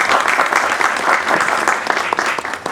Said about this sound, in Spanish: Fuerte las palmas, por favor,